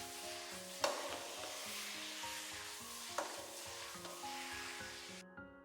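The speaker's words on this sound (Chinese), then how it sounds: "最後撒上一點蔥花，翻炒幾下就可以出鍋啦。" Oil tofu with luffa and chopped scallions stir-fried in a wok, a soft continuous sizzle with a few sharp scrapes and clinks of the spatula against the pan, close and fairly quiet.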